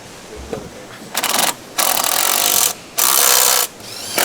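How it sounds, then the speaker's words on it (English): Top strut nuts are tightened on an Audi A8 front suspension with a power tool, sounding as three close, loud bursts of rapid mechanical rattling separated by short pauses. "Tighten the top strut nuts, connect and tighten the bottom strut bolt."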